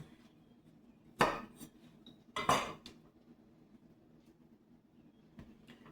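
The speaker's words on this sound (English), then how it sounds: "I will spoon the avocado out" A spoon scrapes avocado flesh for guacamole in two distinct bursts of clinking and scraping against a bowl, followed by a faint tap, with quiet background between them.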